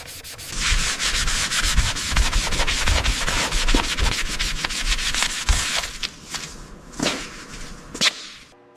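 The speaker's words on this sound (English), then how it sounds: "getting into the sanding now. This mid-boiler section is heavily oxidized" Steady, close abrasive rasping as the heavily oxidized metal mid-boiler section of a Percy toy train is sanded, with rapid back-and-forth strokes running continuously, then thinning into a few separate swipes near the end.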